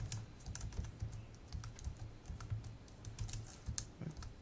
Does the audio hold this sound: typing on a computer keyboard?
yes